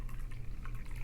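Water poured from a gaiwan tea bowl with its lid held slightly open, a steady close trickle and splash lasting about a second.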